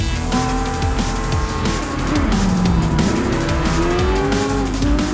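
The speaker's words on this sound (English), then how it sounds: "The audio package features a wide enough range of engine noises" Racing cars in Gran Turismo 5 roar loudly and without a break, engines rising and falling through the gears while tires squeal, with no talking.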